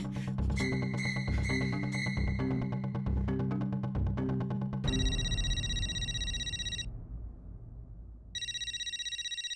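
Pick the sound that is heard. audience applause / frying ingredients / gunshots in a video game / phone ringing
phone ringing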